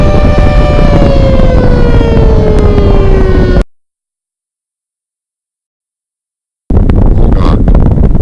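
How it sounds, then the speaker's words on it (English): Tornado warning sirens in a video game wail loudly with a slowly falling tone and harmonics, cut off abruptly into silence before a rougher burst of siren sound returns. "The sirens are going off."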